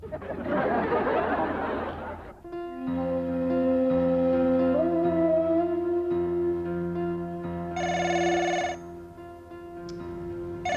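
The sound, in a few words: telephone ringing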